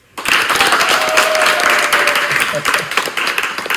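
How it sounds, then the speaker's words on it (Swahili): A church congregation clapping for Jesus breaks into dense, sustained applause from many hands, loud and close, tapering into scattered claps toward the end. "Chapia Yesu makofi."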